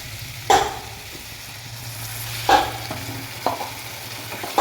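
Vegetable curry with water stirred in a pan: a few distinct spoon knocks and scrapes at intervals of a second or two over a low steady bubbling hum, close by.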